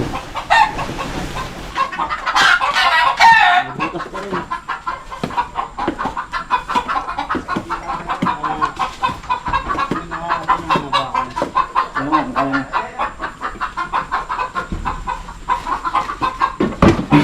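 Chickens in a coop cluck loudly and continuously, close by, with excited squawks and bursts of agitated calls early on and a steady chorus of clucking throughout.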